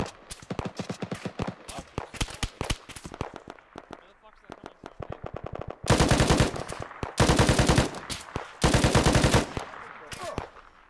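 Heavy .50 caliber machine gun fire from a Humvee mount in the Arma 3 military game, loud rapid bursts of rattling shots in repeated strings with short pauses between them.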